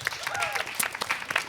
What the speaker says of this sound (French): Déjà, on applaudit ça.